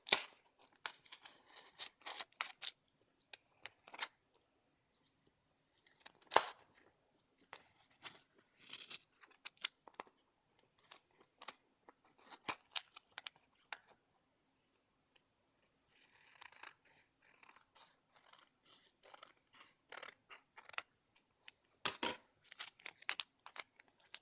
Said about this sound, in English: I'm going to go ahead and trim down this transfer tape some.